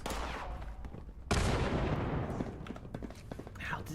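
Automated turrets in Fallout 76 open up with loud, dense bursts of gunfire, a sharp heavy volley midway followed by rapid crackling shots, close and harsh.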